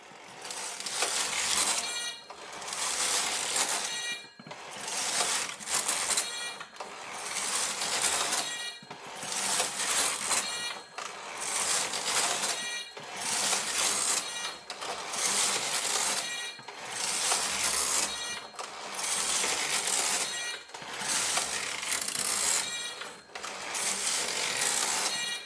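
Brother KH940 knitting machine carriage knitting a two-colour pattern, sweeping back and forth in regular passes roughly every two seconds, each pass a loud clattering mechanical rattle with short pauses at the ends.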